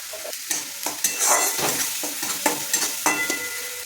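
Spice paste with poppy seeds, salt and turmeric sizzling in oil in a wok for a Bengali rohu fish curry, stirred in steady repeated scrapes that come close and clear with no talk.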